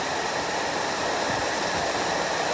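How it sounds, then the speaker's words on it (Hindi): Heavy stormy rain pours down in a dense, loud, unbroken hiss that stays steady throughout, with no voices. "ओए होए, तूफानी बारिश शुरू हो चुकी है। ज़बरदस्त किस्म की बारिश है।"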